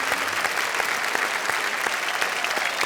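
Sustained applause from a live audience at a Hindi comic poetry stage show, a dense steady wash of many hands clapping, fairly close and continuous with no talk over it.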